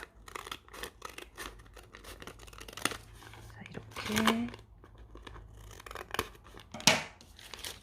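Scissors snip and crinkle through a paper bag in a series of short cuts, with a quiet voice speaking briefly in between.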